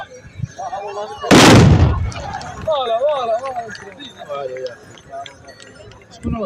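A Tbourida horsemen's black-powder rifle volley fires in a single sharp, loud crack that fades out over about half a second, with an excited commentator speaking before and after.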